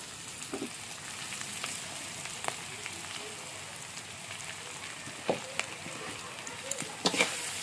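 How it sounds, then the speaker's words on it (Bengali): Grated coconut fries in plenty of oil over a hot stove, a steady crackling sizzle with occasional spatters and scraping stirs, growing busier toward the end. "এবার নারকেলটাকে ভালো করে ভেজে নিতে হবে"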